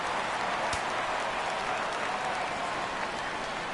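A baseball stadium crowd in a PS4 baseball video game, heard as a steady, dense roar of cheering and applause-like noise throughout.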